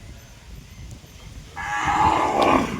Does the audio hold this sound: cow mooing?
yes